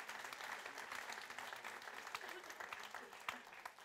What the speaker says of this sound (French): Est-ce qu'on peut encore applaudir le roi des rois?